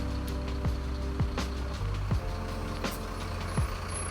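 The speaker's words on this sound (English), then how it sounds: "Still heavy traffic." Heavy traffic on a canal street along the Herengracht in Amsterdam, with a steady low engine rumble and several sharp passing whooshes or brake hisses spread through the clip, close and continuous.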